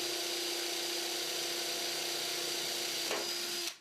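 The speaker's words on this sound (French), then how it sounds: "Prépercez à chaque fois" A power drill pre-drills screw holes in wooden terrace boards, giving off a steady, close, continuous whine for several seconds before it stops abruptly.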